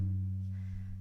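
A single deep, resonant tabla stroke ("ga") that rings with a sustained low hum, heard alone and decaying slowly.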